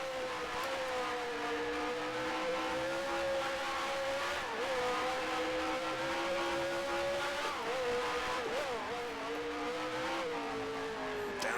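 Race car engine in Grand Prix Legends, a loud continuous engine tone that holds steady then dips and climbs with downshifts and blips, no voices.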